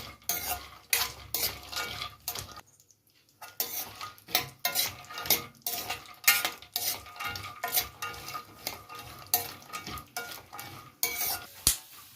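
Almonds, cashews and pistachios being roasted in ghee in a kadai, with repeated metallic scraping and clinking of a spoon stirring the nuts around the pan over a soft sizzle, one brief quiet gap, no talking.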